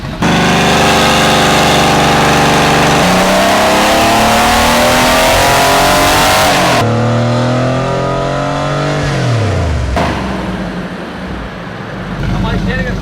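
A Porsche 964 on a dyno, its rear engine revving hard and loud in long sustained pulls with rising and falling pitch, then dropping back and settling toward idle, close and dominant.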